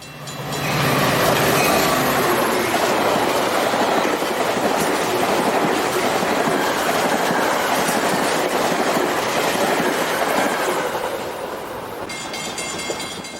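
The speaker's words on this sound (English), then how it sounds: "Before long, another westbound express flies through, this time on the center track." A westbound Metra express train races through Downers Grove on the center track, a loud, steady roar of rolling wheels and rail clatter that holds throughout and eases slightly near the end.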